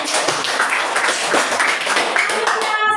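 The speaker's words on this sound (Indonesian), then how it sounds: "Kita tepuk tangan dulu untuk Putri." Students in a classroom clap for a classmate named Putri. The clapping is quick, scattered and uneven, coming from a small group close by, with a voice or two mixed in.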